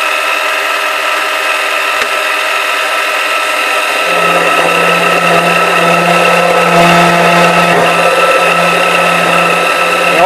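A lathe parting tool cutting into a spinning workpiece: a loud, steady machine drone with a high metallic ring, then a humming cutting tone that enters midway and holds to the end, with no talk.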